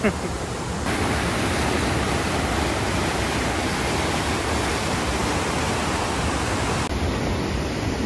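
Rushing water from NB waterfall in Solan, Himachal Pradesh, roars as a loud, steady, dense wash of sound that continues unbroken for the whole stretch.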